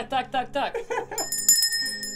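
A bright notification bell chimes for a subscribe reminder over a Fortnite livestream recap, ringing briefly in the second half under someone talking in Icelandic.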